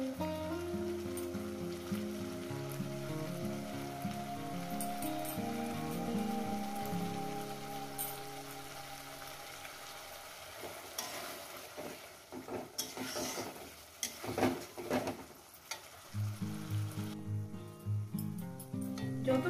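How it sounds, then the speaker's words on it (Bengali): Spice masala for an egg curry fries gently in a pan over low heat, a soft patter of sizzle running beneath prominent background music and growing more noticeable toward the end. "দেখুন গ্যাস আমি লোতে করে দিয়ে 3-4 মিনিট ধরে আমি মশলাটাকে কষিয়ে নেব"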